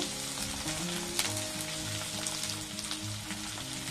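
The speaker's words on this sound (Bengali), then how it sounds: "এখন আমি একটা বড় সাইজের আলু নিয়েছি এটা একটু ডুমো ডুমো করে কেটে নিয়েছি এটা ভালো করে ভেজে নেব" Diced potato, salted, fries in a pan with a steady, dense sizzle and crackle that holds evenly close by throughout, with no voices.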